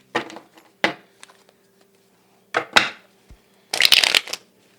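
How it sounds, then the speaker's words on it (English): Tarot cards being shuffled by hand in separate crisp bursts of riffling and flicking, close and fairly loud, with quiet gaps between each burst and no talk. "Give it another shuffle."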